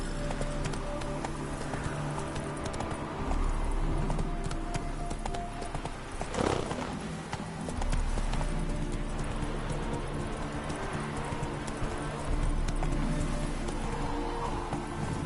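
A horse named Roach gallops in a video game, a continuous rapid drumming of hooves with a brief snort or whinny midway, fairly loud and close throughout.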